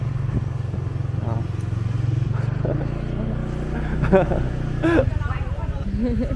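A motorbike engine drones steadily at close range in Vietnam, its low rumble shifting as it rides, while a couple of voices speak briefly over it.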